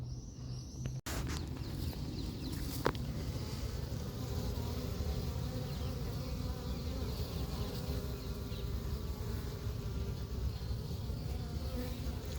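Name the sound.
swarm of honeybees buzzing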